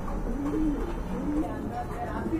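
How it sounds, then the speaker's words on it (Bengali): Large pigeons in a pigeon seller's coop, including Andalusian birds and a black pair, give repeated low soft coos against steady background murmur, the calls spaced through the moment at close range. "এখানে কিন্তু আরেক জোড়া কবুতর আছে, খুবই সুন্দর, অনেক বড় সাইজের"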